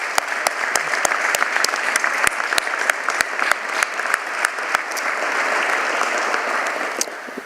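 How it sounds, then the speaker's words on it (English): A Veterans Day audience at a business school event gives sustained applause for an active-duty soldier, with steady clapping across the whole stretch plus a few sharper, louder claps standing out near the front. "Let's give him a round of applause."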